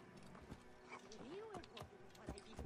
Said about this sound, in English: let me steal this horse now